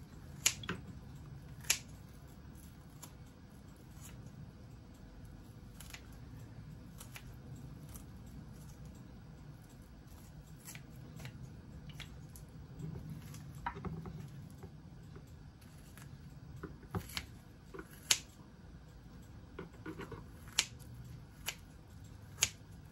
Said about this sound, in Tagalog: Talas ng gunting to ha